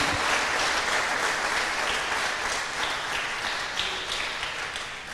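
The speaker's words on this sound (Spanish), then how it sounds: "Dele ese aplauso al Rey." A church congregation at a Spanish-language service breaks into loud, sustained applause, with a dense, continuous wash of clapping from many hands throughout.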